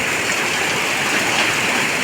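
Heavy monsoon rain in the Konkan region, with gusty stormy wind, a dense continuous broadband roar of downpour, loud and unbroken with no talk.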